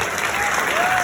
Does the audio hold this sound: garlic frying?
no